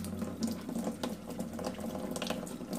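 Running water rinses tomato seeds in a sink, a steady splashing stream with small bubbling bursts throughout, close and moderately loud, with no voices.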